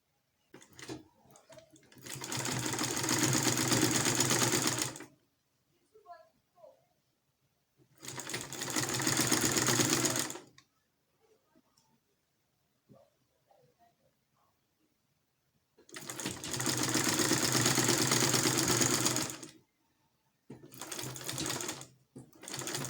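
Sewing machine stitching along marked lines on an off-shoulder bustier, in three long steady runs of loud, even whirring separated by short pauses, with a brief fourth burst at the end.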